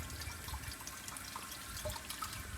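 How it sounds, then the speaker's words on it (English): A 1980 Eljer Emblem toilet refills after a flush, water steadily running and trickling into the tank and bowl, a soft continuous gurgle with small drips, no talking. "let it fill up to the water line in the bowl and in the tank"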